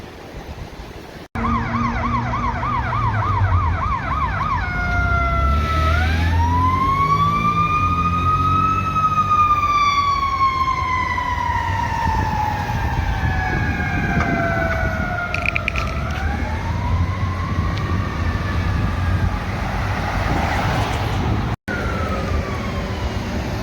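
A Chicago fire engine's siren sounds loud and near, opening with a quick rapid yelp before switching to long rising and falling wails that continue for over twenty seconds, with traffic rumbling underneath.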